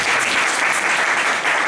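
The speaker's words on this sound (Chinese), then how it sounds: "大家掌声欢迎。" Audience applause welcoming the first speaker at a forum on a constitutional reform movement; dense, steady clapping from a crowd, fairly loud and continuous, with no voices over it.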